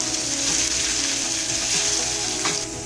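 Chicken with garlic and ginger paste sizzles steadily in a hot kadai pan for an Indian chicken curry, a continuous loud frying hiss with faint stirring scrapes near 1.8 and 2.5 seconds.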